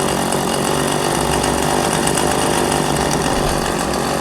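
An old chainsaw engine runs steadily at idle, a continuous loud buzzing rumble with no pauses, close by and alone without voices.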